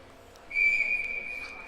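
Referee's whistle at a 14U girls' ice hockey game, one sharp sustained blast of about a second over a hushed rink background, fading out gradually.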